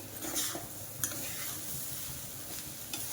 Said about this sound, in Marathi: बटाटा घालणार आहे चांगलं परतून घ्यायचं हे